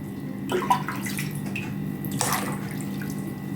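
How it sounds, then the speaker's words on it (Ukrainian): Water running into a clean container while preparing elderflower kvass with dissolved sugar, a steady close pour with two brief louder splashes, no talking. "посуда у нас чистенька набираємо водичку"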